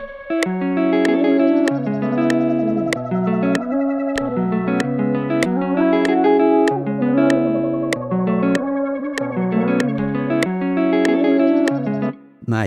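Layered guitar chords ring out in a steady, rhythmic pattern, bright plucked attacks over sustained, effect-laden harmony, loud and close, with no voices.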